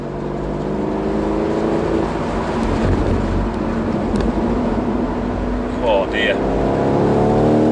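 A 530 bhp BMW M850i Convertible accelerates hard on an open road, its engine note climbing steadily and loudly in pitch from the cabin, with a brief spoken exclamation partway through.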